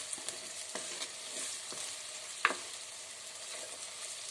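Soya chunks fry in a pan with a constant soft sizzle, broken by scattered taps and one sharp utensil clink as they are stirred. No one speaks.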